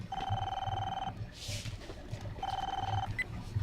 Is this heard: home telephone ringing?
yes